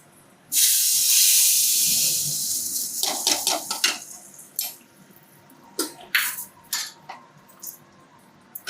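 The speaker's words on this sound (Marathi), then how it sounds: "आता मी फोडणी देते याला." Spice tempering poured into a dish, a sudden loud hiss of hot oil that slowly fades, followed by clinks of a ladle and pot as it is stirred in.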